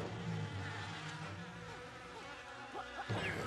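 Insect-like buzzing of bees in the video game Yooka-Laylee, a steady drone running throughout with small swells and wavering tones layered over game sounds, no talking.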